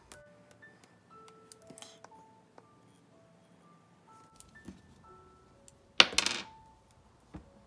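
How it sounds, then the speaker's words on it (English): A big die is rolled by hand on a surface during a cash savings challenge: sparse light clicks and taps, then a sharp, close clattering burst as it tumbles and settles, with one more faint click after. "So I'm gonna roll this dice 4 times"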